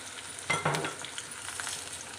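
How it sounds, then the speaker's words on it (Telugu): Garlic paste hitting hot oil in a pan while mango curry is being cooked, giving a burst of sizzling that settles into a steady frying hiss, close and moderately loud. "మనం మళ్ళీ వెల్లుల్లి పేస్ట్ వేసుకుందాం"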